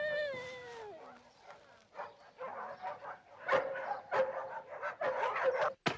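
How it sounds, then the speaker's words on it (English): Toby, a scent-tracking dog, whines with a falling pitch, then lets out a string of sharp, close barks. "That dog will follow a scent to the world's end and back."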